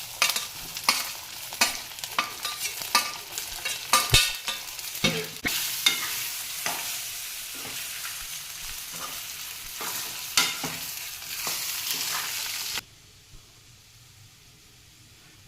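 Poha and suji bites being stirred with a tadka in a hot pan, a close, continuous sizzle with rhythmic scraping stir strokes that stops abruptly near the end.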